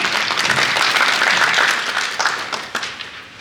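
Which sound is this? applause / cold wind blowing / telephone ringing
applause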